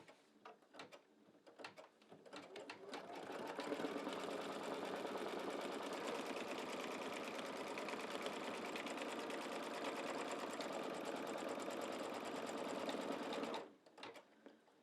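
An embroidery sewing machine stitches a color stop, sealing the edges of an in-the-hoop mug rug: a few clicks, then a close, even, rapid whirring hum that runs steadily for about ten seconds before stopping abruptly.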